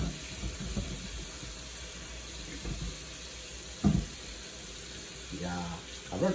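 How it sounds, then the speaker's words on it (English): Hot water runs from a kitchen sink tap onto food being washed, a steady faint hiss of flowing water with occasional splashes and clatter, and someone speaks over it. "start running hot warm water on it"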